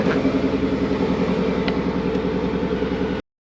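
A Ford Mustang GT Premium 5.0 with manual gearbox idles steadily while warming up, a close, loud, even engine rumble with a regular low pulse that runs alone and cuts off just before the end.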